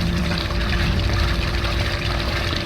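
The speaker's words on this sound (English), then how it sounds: "Y'all hear the water?" Steady rushing water flows continuously at close range, a dense even wash of sound with no voices.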